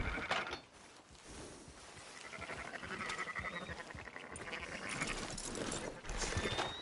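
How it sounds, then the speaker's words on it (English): Sheep bleating in the video game Red Dead Redemption 2, mixed into a busy layer of mechanical clatter and ambient game noise at a moderate level. "Fine sheep."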